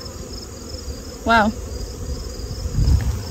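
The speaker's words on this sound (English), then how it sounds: "you see all those bees? That's a lot of bees." A large swarm of honeybees buzzes steadily around an open beehive during a backyard beekeeping inspection, a dense continuous drone heard close up, with a brief spoken exclamation partway through.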